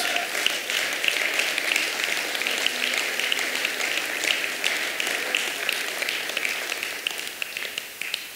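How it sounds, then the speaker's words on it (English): A church congregation claps their hands together in a long, dense, steady burst of applause that fills the room and keeps up throughout. "Let's give the Lord a hand clap."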